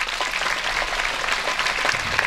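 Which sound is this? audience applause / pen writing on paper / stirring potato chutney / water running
audience applause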